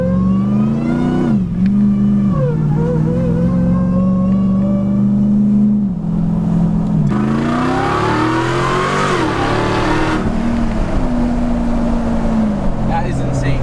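A supercharged 840hp Demon engine in a Jeep Gladiator revs and whines, its rising and falling supercharger pitch loud and close over engine rumble, with people talking over it.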